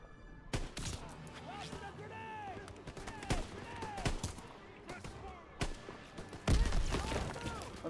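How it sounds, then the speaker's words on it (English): Gunfire and rocket-launcher blasts in Call of Duty: WW2, with several sharp shots and heavier booms spread through a busy battle soundscape, mixed with in-game shouting and music-like tonal layers. "What is with the guys who are just shooting RPGs?"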